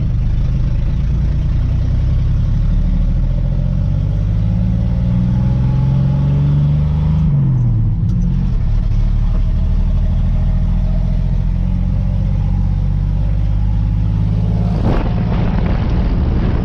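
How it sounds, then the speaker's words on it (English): A tired, poorly running 1980 Chevy C20 pickup's engine drones loud and close while driving, revving up and then dropping off partway through before pulling again. "It's been a while since I've driven this truck anywhere"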